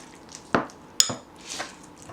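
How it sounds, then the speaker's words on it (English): Codfish fritter batter is stirred in a bowl, giving a couple of sharp utensil clinks against the bowl followed by soft wet scraping, close and fairly quiet. "So I'm just mixing everything together."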